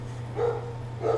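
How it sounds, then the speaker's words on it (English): A dog barking downstairs in a house, two muffled, distant barks over a steady low electrical hum. "My dog's going crazy in the downstairs."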